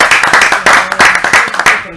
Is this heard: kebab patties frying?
no